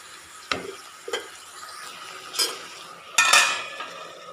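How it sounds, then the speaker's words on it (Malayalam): A spoon scrapes and stirs okra thoran in a pan, a few distinct clinks and scrapes against metal over a soft background sizzle, with sharper scraping toward the end. "ഇതും കൂടി ചേർത്തിട്ട് ഒന്ന് ഇളക്കി കൊടുത്തിട്ട് മൂടി വയ്ക്കാം"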